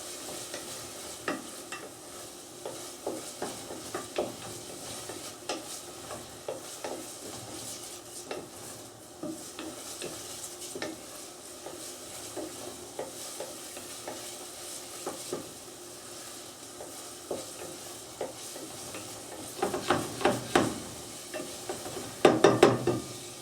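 Onions for quinoa sauté in a pan with a soft, steady sizzle while a utensil stirs and scrapes at intervals, growing louder with a few clatters near the end, no voices.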